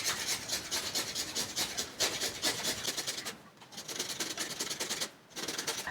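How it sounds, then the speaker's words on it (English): A peeled coconut is rubbed against the small side of a hand grater in steady, rhythmic rasping strokes. The scraping is close and continuous, with two brief pauses. "I am done grating the coconut."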